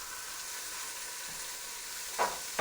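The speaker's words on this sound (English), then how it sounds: "Now you hear the sizzle? That means it's working." Ground meat sizzles as it fries in a pan for chili, a steady crackling hiss with a few soft stirring scrapes near the end.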